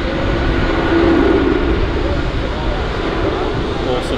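Jet airliner on its take-off roll at Manchester Airport, a loud, steady engine roar that stays constant throughout, close and broadband.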